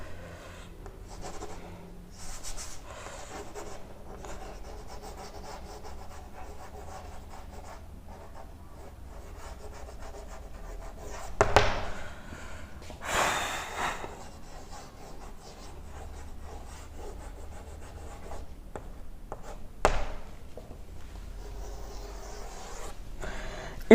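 Marker or chalk scratching across a board for a 6th-grade English grammar lesson, steady rubbing strokes with a few louder taps, heard close and alone without talk.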